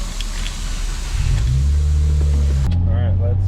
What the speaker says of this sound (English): So let's go on a test drive on the highway.